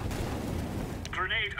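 An incendiary grenade in CS:GO lands and flares into a low, rumbling whoosh of fire, followed by a brief voice at the end.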